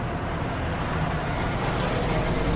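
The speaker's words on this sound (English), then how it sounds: "A military truck?" A military truck rolling past on a road, a loud, steady low rumble of engine and tires that holds close throughout with no talk.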